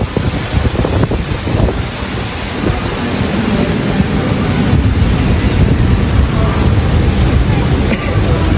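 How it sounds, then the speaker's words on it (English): Heavy rain pours down at an amusement park, a dense, steady roar that fills the whole stretch with wind buffeting the microphone, loud and close without pause. "It's still raining, but it's not like typhooning anymore."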